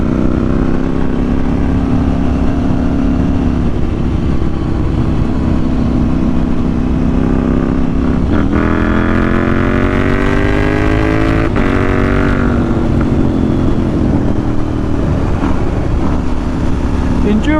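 A KTM 790 Duke motorcycle engine drones loudly throughout an autumn road ride, the pitch climbing and falling as the rider works through the gears, with steady wind roar underneath.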